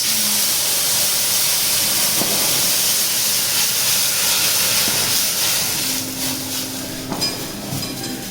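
Cardamom and bay leaf sizzle in hot oil while tempering for semolina, a loud, steady frying hiss throughout with a few faint clinks of a utensil and no talk.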